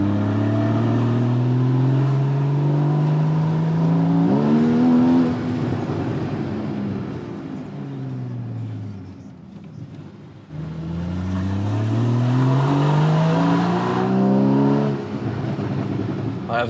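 A Porsche Cayman GTS sports car engine warms up and revs, rising and falling in repeated sweeps with a short quieter dip between pulls, loud and close with no voices over it.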